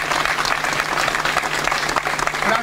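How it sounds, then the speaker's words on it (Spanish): An audience at an emotional farewell ceremony in front of a municipal arts center claps in a dense, sustained burst of applause, loud and close throughout. "Un fuerte aplauso"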